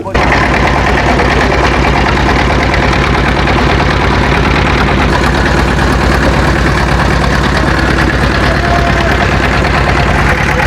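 A hired motor boat's engine runs steadily on a river near Botiaghata, Khulna, a loud continuous mid-to-low throb with rattling vibration filling the whole stretch, close to the listener.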